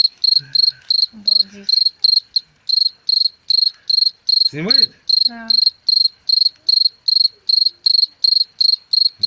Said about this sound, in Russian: как сверчит сверчок